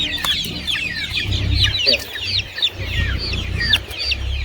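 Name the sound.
month-old country chickens clucking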